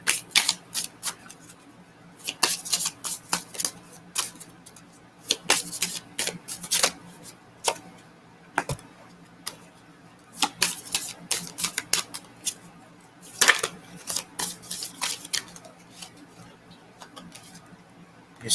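A Spanish tarot deck being shuffled by hand, bursts of crisp card riffles and flicks in irregular clusters, close and fairly quiet, with soft voice sounds in between.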